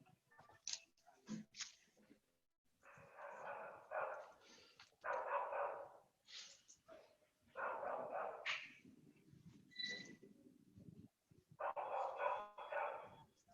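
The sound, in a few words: dog barking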